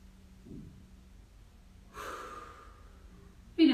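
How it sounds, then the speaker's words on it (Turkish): A deep breath drawn during an at-home workout session, a soft airy inhale followed by a fuller exhale, close to the mic and heard alone with a brief sharper noise at the end. "derin bir nefes alıyorum."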